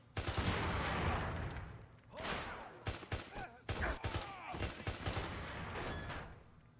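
Gunfire in the video game 007 Bloodstone: bursts of rapid shots and heavy blasts fill the opening seconds, then scattered sharp shots and impacts follow, loud and dense throughout.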